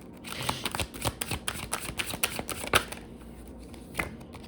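Tarot cards are shuffled briskly, giving a close, rapid run of crisp riffling flicks and taps for a few seconds that thins out toward the end.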